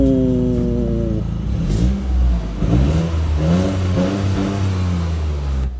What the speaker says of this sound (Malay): Stock exhaust dia pun bagi aku sound okey-okey lah.